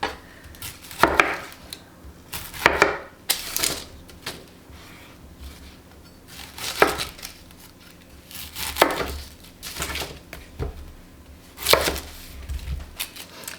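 A knife chops red onions on a cutting board in bursts of rapid, loud knocks separated by short pauses, close and clear with no talking.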